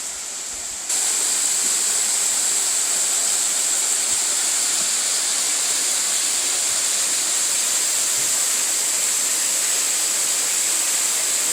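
The waterfall at Turkey Run roars as a dense, continuous rush of water, loud and close, sustained without a break.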